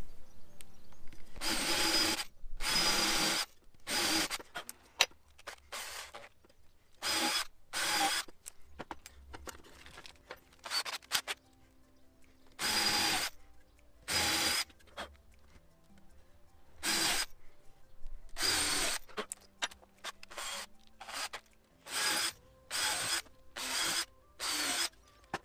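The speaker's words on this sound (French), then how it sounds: "on va venir percer avec une mèche plus grosse que la tête de vis pour que la vis vienne s'enfoncer dans le bois" Power drill boring holes in wood with a bit larger than the screw head, counterboring for the screws: many short bursts of whirring, a few longer, separated by brief pauses, close and fairly loud with no talking.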